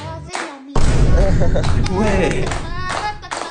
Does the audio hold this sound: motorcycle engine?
no